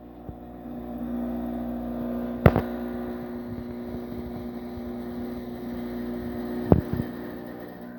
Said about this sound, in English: let's go ahead and pull a shot.